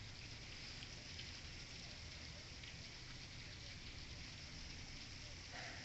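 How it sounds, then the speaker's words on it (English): Rain droplets patter steadily against a window during a severe thunderstorm, a dense continuous hiss that holds at an even, close level throughout with no break or voice. "Rain droplets are accumulating on this window."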